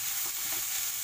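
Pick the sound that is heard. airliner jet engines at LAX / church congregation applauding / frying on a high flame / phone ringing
frying on a high flame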